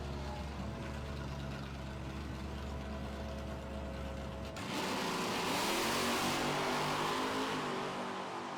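A 2007 Mustang GT muscle car runs at an NMCA drag race, a steady engine drone that suddenly swells into a loud, broad roar partway through, heard from a distance with no talk.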